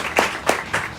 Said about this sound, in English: Please, a show of applause for my board.